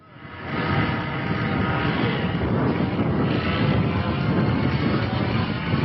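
Remote-controlled model airplane engine droning steadily at a model train, car and plane show, a sustained buzzing whine rising in the first second then holding loud and continuous.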